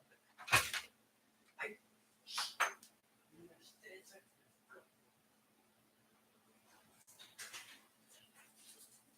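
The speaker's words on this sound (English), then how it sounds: "My dogs are barking." Dogs bark in another room, with several scattered, muffled barks at irregular intervals over a quiet background.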